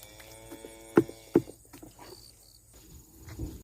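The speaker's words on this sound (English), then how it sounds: "Horses over there." Horses make a few sharp hoof clops and knocks, two loud strikes standing out among softer ones, with a faint whine in the background and no talking.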